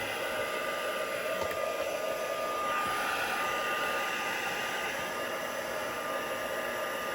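Hair dryer drying distress oxide ink on a crafted rusty background, a constant loud whooshing blow with steady airflow noise running throughout.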